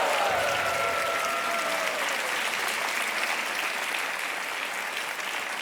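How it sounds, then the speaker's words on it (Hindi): Studio audience at a quiz game show applauding in a continuous dense wash of clapping that stays steady throughout, with a faint musical tone near the start. "ये तालियां बजती रहनी चाहिए।"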